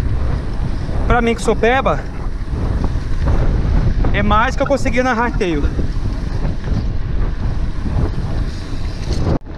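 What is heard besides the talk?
headwind blowing on microphone while riding a mountain bike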